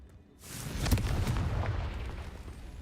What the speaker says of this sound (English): Confringo. Взрывающееся зелье.